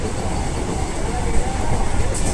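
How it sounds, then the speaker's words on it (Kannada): A Vande Bharat train rushing past, a dense, steady roar of rolling rail noise filling the whole stretch with no break. "ವಂದೇ ಭಾರತ್ ಟ್ರೈನ್ ಹೋಗ್ತಾ ಇದೆ"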